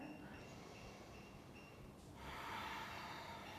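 A deep breath at rest during a yoga practice, standing in Samasthiti: a soft, quiet inhale followed by a fuller, airy exhale that swells near the end, faint and alone with no talking.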